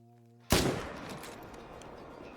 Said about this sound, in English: So we're going to go for a back of the neck shot.